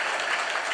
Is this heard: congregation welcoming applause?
yes